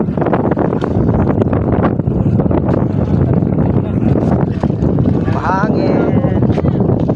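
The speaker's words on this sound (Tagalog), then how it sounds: "Mahangin." Heavy wind roars and buffets the microphone throughout, loud and constant, with voices faintly present underneath.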